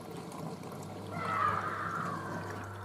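Bosch VarioPerfect WAK28260GB washing machine drawing in water for its final rinse, a soft steady pouring and trickling hiss that swells midway and stays low and continuous, with a faint mains hum beneath.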